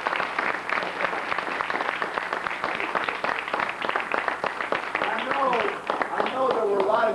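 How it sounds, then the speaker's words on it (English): An audience gives a round of applause, a crowd of hands clapping quickly and steadily, with a few voices and cheers mixed in near the end. "Let's give all of these people a round of applause."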